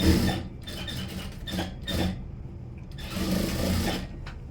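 A sewing machine stitches a princess cut blouse in several short runs of rapid, close mechanical whirring, separated by brief pauses for fabric handling.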